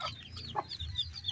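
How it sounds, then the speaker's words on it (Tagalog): A tethered hen and her chicks cluck softly in a quiet farmyard: several short, separate clucks, faint and fairly close, with no voices. "Ito, ang ating ibang sisiw rito."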